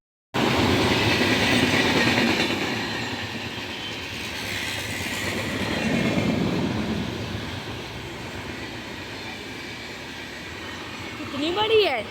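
A train passing by, a steady loud rumble of wheels on rails that swells, fades and swells again, with talk faintly mixed in and a sharp squeal near the end.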